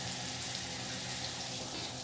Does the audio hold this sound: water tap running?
yes